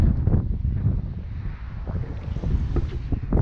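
Steady low rumbling wind buffeting the microphone outdoors beside a 2018 Tesla Model X P100D, continuous and loud throughout with no clear talking.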